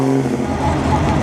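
A classic Bristol car drives by during the Mille Miglia road race, its engine a loud, throaty rumble with a shifting tone that holds steady across the short moment, close to the listener.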